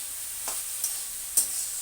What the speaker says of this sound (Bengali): থোরটা ভাজা হতে আরও অনেক টাইম লাগবে, আরও আস্তে আস্তে কষাতে হবে।